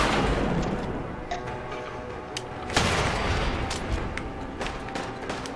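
Rapid gunfire from a Fallout 4 firefight, dense bursts of shots and booms overlapping in a sustained barrage with louder individual cracks standing out, no voices.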